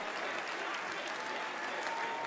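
Steady audience applause at a brass band competition final, a dense continuous patter of many hands clapping, with no voices standing out.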